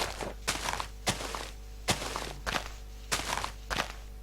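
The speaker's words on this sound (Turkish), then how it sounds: "Şu ağacı oduna çevirelim ve Fidan düşmesi için vuralım biraz." Repeated blocky thuds from punching a tree to chop wood in Minecraft, a series of soft regular hits about every half second over a low steady background.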